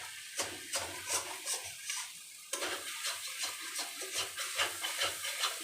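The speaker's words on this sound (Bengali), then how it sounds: "এইভাবে আমরা একটুখানি অপেক্ষা করে একটু নাড়াচাড়া করবো" Taro curry being stirred in a pan, with a steady sizzling hiss broken by repeated soft scrapes and clinks of a utensil against the pan. No voices.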